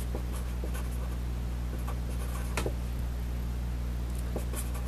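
A pen scratches steadily across paper while a calculus estimate is written out, close and quiet over a low constant hum, with faint tapping strokes.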